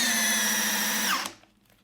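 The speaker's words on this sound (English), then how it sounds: "on drill mode, there is no fooling around" A Skil Flip cordless drill/driver runs flat out in drill mode, a loud steady whine with a high motor tone that winds down and cuts off near the end, leaving quiet.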